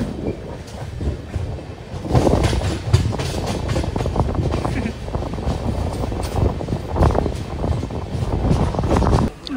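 A train rumbling along the tracks through the Nallamala forests with steady rhythmic clatter, loud and close, continuing throughout.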